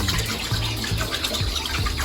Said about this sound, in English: I'm going to release it in the water now.